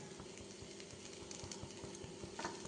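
Egg nool chapati masala is stirred in a pan, with faint sizzling and soft, rhythmic scraping of a spoon, quiet and close.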